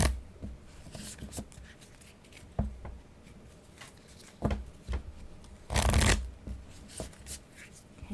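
A deck of Lenormand cards is shuffled by hand at close range, with soft riffling bursts and light taps and one louder longer riffle, quiet and without speech.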